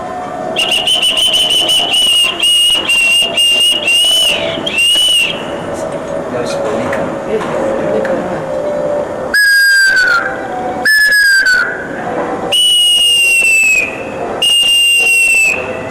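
Shrill bird-like whistles from Moche-culture monophonic whistles that imitate different birds, blown in a series of bursts, some steady and some swooping down in pitch, with a brief spoken phrase early on, in Cusco, Peru.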